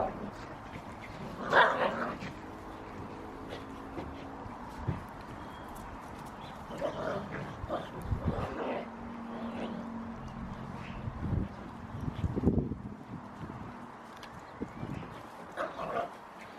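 Dog barking in short scattered bursts near a garage while a Ford Focus MK2 ST 225 bonnet is worked on, some yips and whimpers, moderately loud over low background noise with occasional voices.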